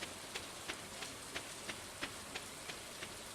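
Soft, steady rain hisses in Stardew Valley, faint and even, with light evenly spaced ticks repeating about three times a second.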